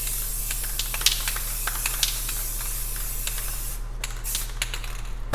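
An aerosol can sprays clear coat paint over spray-painted space art in a steady close hiss, then breaks into short separate bursts near the end.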